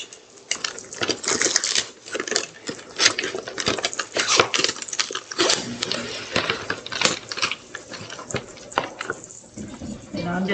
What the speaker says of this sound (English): Okay, I'm going to open up this spinach.